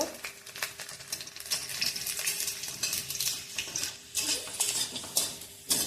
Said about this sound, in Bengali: তেল গরম হয়ে গেছে, শুকনো লঙ্কা ছেড়ে দিলাম, রসুন ছেড়ে দিলাম, কালো জিরা অল্প